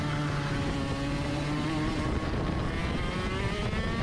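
KZ shifter kart two-stroke engine lapping a track in reverse direction, a steady loud buzzing drone with shifting harmonic tones as it brakes and accelerates, close and continuous throughout.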